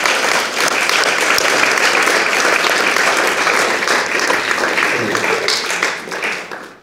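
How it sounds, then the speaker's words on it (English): A church audience gives sustained applause for several seconds, loud and dense clapping from many hands that holds steady and then tapers off at the end. "Can we just give these guys a round of applause?"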